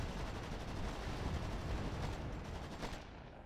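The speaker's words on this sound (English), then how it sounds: "he just got gunned down by machine guns there" Dense bursts of machine gun fire from a strategy video game battle, loud and continuous, rattling with rapid overlapping shots before cutting off at the end.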